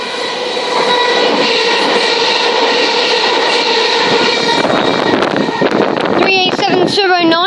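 Train running through South Croydon station without stopping, a steady loud rumble and whine of rail cars passing close by, breaking into clattering wheel noise and squealing toward the end.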